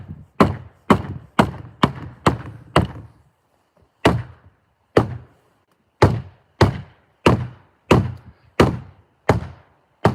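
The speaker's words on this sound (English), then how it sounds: "I'm gonna give that door a good bang again" A closed-up door at a restaurant and chalet on Mt Hanley, Nova Scotia, gets banged hard in quick bursts, loud sharp thuds in groups of several with short pauses between, no voices.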